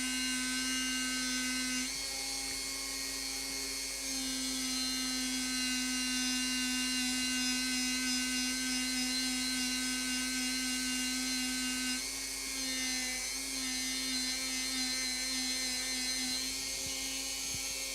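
A rotary tool whines at a steady high pitch while polishing with polishing fluid, running continuously and close with slight shifts in tone as it moves across the surface.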